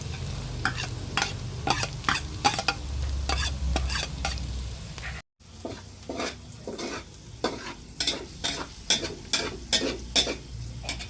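Garlic sizzles steadily in a hot pan while a utensil scrapes and stirs it in repeated rhythmic strokes, close and clear, with a brief break midway.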